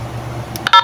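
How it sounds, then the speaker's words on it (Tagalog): Short electronic roger beep from a WLN UV5R handheld radio, a quick series of clipped, bright tones ending a transmission after a low steady hum, loud and close. "ito yung Roger beep"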